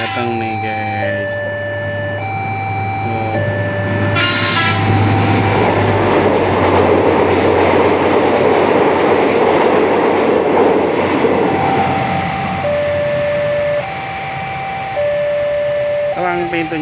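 A train rumbles past a railway crossing at night close by with a dense, sustained roar of wheels on rails, while steady tonal crossing bells or signal chimes sound repeatedly throughout.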